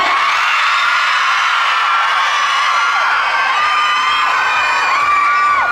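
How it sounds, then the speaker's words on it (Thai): A large crowd at a Toyota event screaming and cheering loudly and continuously, high-pitched shrieks and whoops blending into one steady roar. "ใครคิดว่าอ้ำแต่งตัวดีวันนี้ขอเสียงกรี๊ดดังๆ ครับ"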